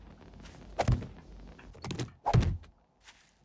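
In the game 7 Days to Die, a bars block is set into place with a few dull, hollow thunks, two louder knocks standing out against quiet background noise.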